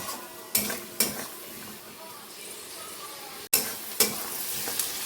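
Onion, garlic, tomato, cashews and ginger frying in a pan make a soft sizzle. It is broken by several sharp scrapes and knocks of a spatula stirring against the metal.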